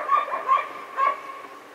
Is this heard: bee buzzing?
no